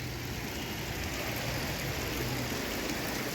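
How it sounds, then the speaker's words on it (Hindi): Spring water flows steadily from the Jamuna Dhara tank, built in 1932 over a perennial spring at Bhawali, Uttarakhand, in the rainy season. It makes a continuous, close, even rushing hiss with no voices. "और पानी का प्रवाह देखिए आप"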